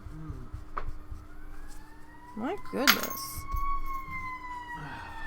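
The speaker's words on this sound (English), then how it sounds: "That sounds like that's the full-on fire truck." A fire truck siren wails steadily in the distance, rising slightly in pitch, while people talk nearby and a short exclamation comes through.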